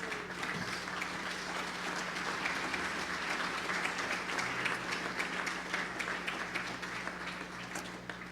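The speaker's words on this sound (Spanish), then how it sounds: "¿Por qué no le das un aplauso al Señor?" A church congregation claps together in a dense, sustained round of applause that holds steady throughout, slightly distant and filling the hall.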